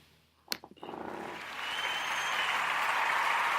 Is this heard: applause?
yes